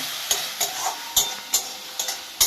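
Spice masala with a little oil, yogurt, salt and turmeric fries in a pan under a soft sizzle, broken by a regular series of sharp scraping stirs roughly every third of a second.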